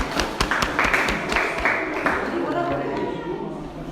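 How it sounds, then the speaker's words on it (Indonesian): Classroom applause for the first student group in a teacher-training lesson: a burst of scattered hand claps in the opening two seconds, fairly close, merging into chatter and room noise as it fades. "Berikan tepuk tangan kelompok 1-nya."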